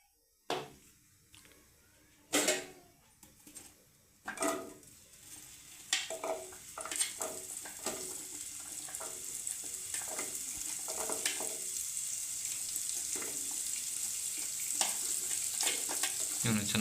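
Onions and tomatoes dropped into hot cooking oil, with a few sharp clattering additions at first, then a steady frying hiss that builds and holds with intermittent stirring.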